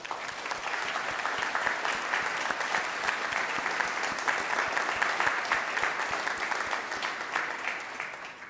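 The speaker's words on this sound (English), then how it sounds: "why don't we give them a well-deserved round of applause?" Audience at a university medical, dental and biomedical science graduation ceremony claps steadily and enthusiastically, a dense, even patter of many hands held at a constant level before tapering slightly at the end.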